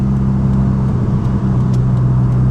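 A modified 480 bhp Mazda RX-7 rotary engine pulls hard in second gear, a loud, steady, droning engine tone heard from close up inside the car, continuous for the whole stretch with no voices.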